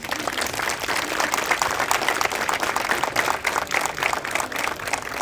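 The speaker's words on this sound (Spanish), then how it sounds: "Tú me regalas un fuerte aplauso" Audience at a Mexican clown show applauds steadily, a dense wash of clapping from a crowd that holds evenly loud throughout.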